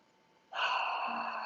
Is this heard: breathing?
yes